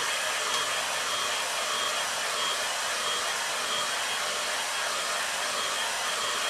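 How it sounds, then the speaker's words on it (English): A hair dryer blowing steadily over watercolour paper, a constant close whooshing hum with a faint whine, unbroken and alone for the whole stretch. "just speed things up with the air dryer"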